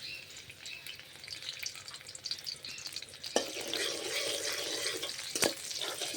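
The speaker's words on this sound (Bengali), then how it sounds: "রসুনটা একটু ভেজে নেব।" Chopped garlic drops into hot oil and fries with a steady, close hiss and crackle that swells after a couple of sharp clacks as it is stirred in the pan.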